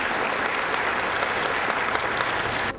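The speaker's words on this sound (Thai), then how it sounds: "ขอเสียงปรบมือค่ะ" Applause at an award ceremony for a road-accident reduction program in Thailand, a dense, steady clapping crowd filling the whole stretch without pause, loud and close, ending with a slight drop at the very end.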